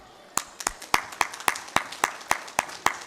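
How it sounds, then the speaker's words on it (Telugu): Audience at a school annual day clapping in unison, about a dozen sharp synchronized claps in an even, slightly quickening rhythm, crisp and fairly close with quiet gaps between them. "అందరం కూడా ఒక 10-15 సెకండ్ల పాటు ఆగకుండా చప్పట్లు కొట్టాలని నా కోరిక."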